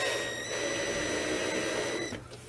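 A power drill drives a screw tight on a Club Car Precedent golf cart canopy net install, giving a steady whirring motor drone for about two seconds before it cuts off.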